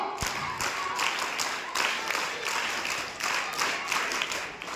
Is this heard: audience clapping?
yes